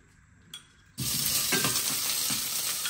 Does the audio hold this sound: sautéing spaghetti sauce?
yes